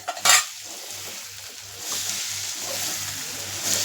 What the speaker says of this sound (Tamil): இப்போ அதை போட்டுடலாம். போட்டு நல்லா அதை மிக்ஸ் பண்ணி விடலாம்.